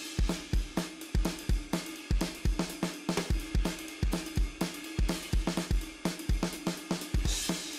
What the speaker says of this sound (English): Finally, we have these drums for the chorus.